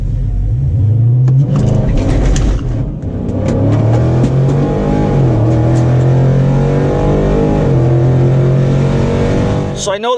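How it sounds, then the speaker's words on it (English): Car engine revving hard through a forceful launch from a standstill at night, with wheel hop violently rattling the body; a loud, steady rumble rises and holds close by, and a faint voice appears briefly in the background. "I had such a hard launch and I suffered some wheel hop and it rattled the car violently"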